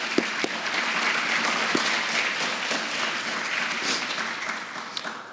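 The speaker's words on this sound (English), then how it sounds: "So would you give our agents a round of applause?" An audience at a State Farm grant announcement claps steadily for several seconds, a dense, even wash of applause with a few sharper individual claps, tapering off at the end.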